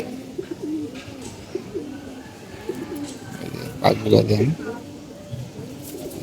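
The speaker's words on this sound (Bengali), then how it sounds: "একটা মাদি কবুতর" Pigeons coo in low, rounded bursts throughout, swelling loudest near the middle, while a person speaks over them among the birds kept in a home loft with a paired female pigeon.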